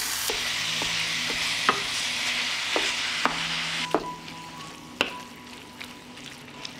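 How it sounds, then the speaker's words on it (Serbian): Minced pork sizzles in melted lard in a hot pan with a bright, steady hiss, broken by spatula taps and scrapes. The sizzle fades midway and scattered clinks continue. "sada ću propržiti mleveno meso"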